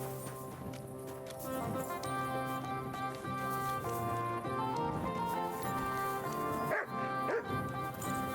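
A dog barks in the video game Kingdom Come: Deliverance II, yips and whimpers sounding over steady background music, with a few clip-clopping hooves mixed in.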